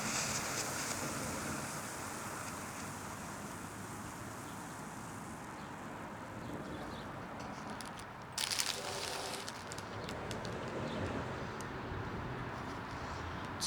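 Wind gusting outdoors on a blustery day while smoke balls are tested, a continuous faint rushing roar buffeting the microphone, with one brief louder burst of rumble partway through.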